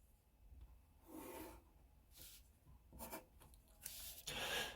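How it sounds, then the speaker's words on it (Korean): A pencil or pen drawn along a ruler on paper for a geometry construction, soft close scratching strokes in several short passes with quiet pauses between, no talking. "마찬가지로 직선 L을 그려줍니다."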